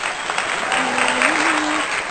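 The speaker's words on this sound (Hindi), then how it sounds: "जोरदार तालियां डॉक्टर भावना तिवारी जी के लिए" Applause from an audience at a Hindi poetry recital event, steady dense clapping throughout, with a faint sustained tone running under it.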